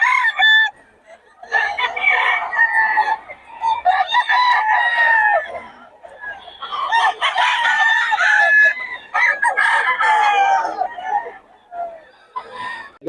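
Several chickens cluck and crow loudly and close by in Bocaue, overlapping in bursts with short gaps, a rooster's crow standing out among them.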